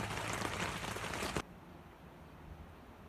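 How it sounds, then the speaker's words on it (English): Heavy rain pours at night in Whistler as a loud, dense hiss for about a second and a half, then cuts off abruptly to a much quieter background. "it is raining like I have never witnessed before"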